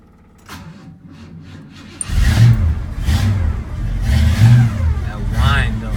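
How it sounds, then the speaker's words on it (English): A 1966 Buick Skylark's engine runs close by with an electric fuel pump fitted, a steady rumble with a high whine on top, swelling as the revs rise partway through while someone talks over it. "Put an electric fuel pump on it. You probably hear it in the background. When I started, it sounds like it's supercharged."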